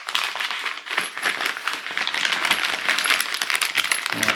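A parcel holding a bag of 2N3055 power transistors is handled and opened, its loose metal parts jangling and clinking continuously at close range with dense, bright rattling.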